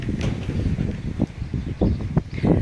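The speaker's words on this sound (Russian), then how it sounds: "Господи, какой ветер." Strong, gusty wind blows around a garden greenhouse outdoors, heard as a steady low roar with several louder buffeting gusts, loud and close, with no one talking.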